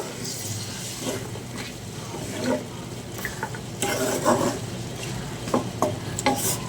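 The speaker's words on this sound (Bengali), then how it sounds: "সবজিটাকে একটু কষাবো।" Teasel gourd, potato and jackfruit seeds sautéing in a pan with a little water, giving a steady low sizzle under repeated scraping and stirring strokes from a spoon, close and moderately loud throughout.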